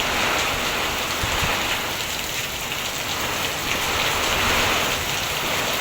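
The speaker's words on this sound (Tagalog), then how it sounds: "Sobrang lakas na po ng hangin at ng ulan guys." Heavy rain pours steadily during Typhoon Uwan in Bicol, a dense, loud, continuous hiss of drops on surfaces with strong wind mixed in, close and unbroken throughout with no voices.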